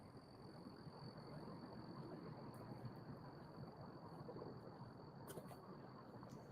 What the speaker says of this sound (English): Crickets are out.